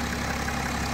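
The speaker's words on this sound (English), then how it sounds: "Hear the engine running nice and smoothly." BMW 335d diesel engine idling in the bay, a steady low rumble with no speech, heard close for about a second.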